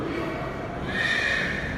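An Arabian mare whinnies nearby during her first saddling session, a single loud, rising and wavering neigh with no talk over it.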